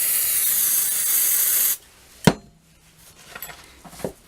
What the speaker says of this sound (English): some brake clean again